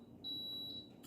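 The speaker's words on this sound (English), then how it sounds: "It's my coffee pot turned on" A home coffee pot gives one clean, high electronic beep as it switches on, lasting about half a second, quiet and alone in a kitchen.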